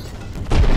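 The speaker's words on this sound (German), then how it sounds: "Sie müssen von der Explosion völlig benommen sein." An explosion in the game Der Schatzplanet, a low booming thud that swells suddenly near the end after a muffled rumbling lead-in.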